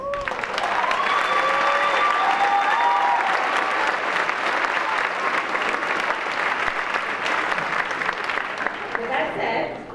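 Sustained audience applause fills a high school academic awards night hall, loud and continuous from start to finish, with a few voices and faint calls over the clapping.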